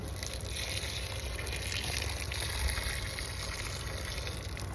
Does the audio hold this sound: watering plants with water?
yes